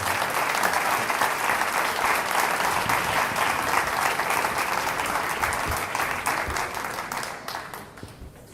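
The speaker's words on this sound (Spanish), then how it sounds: "les pido un fuerte aplauso para Andrés Aciaín" A large audience at a memory, truth and justice conference applauds the speaker Andrés Asiain with loud, sustained clapping that holds steady throughout and begins to thin out near the end.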